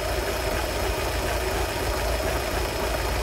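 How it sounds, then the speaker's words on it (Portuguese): A Fiat Uno Vivace engine idles close up with a continuous, rough, slightly uneven, misfiring rumble and no pauses. "Aqui, ó, olha a cabeçada que esse motor tá dando,"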